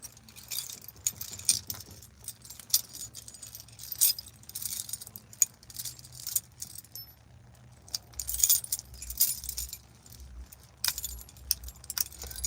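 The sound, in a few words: keys jangling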